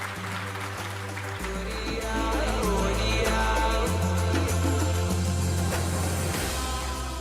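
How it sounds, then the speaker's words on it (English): Conference attendees at the Kenya International Investment Conference applaud with a sustained wash of clapping that swells after a couple of seconds, mixed with music playing underneath. "Another round of applause for both the heads of state for wonderful statements."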